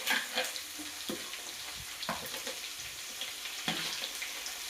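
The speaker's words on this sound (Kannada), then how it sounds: "ಅದು ಸ್ವಲ್ಪ ಕಂದು ಬಣ್ಣ ಬರೋವರೆಗೂ ಫ್ರೈ ಮಾಡ್ಕೊಬೇಕು" Onions fry in a pan for vegetable fried rice, a soft, fairly quiet crackle and hiss broken by occasional clinks and taps of a utensil.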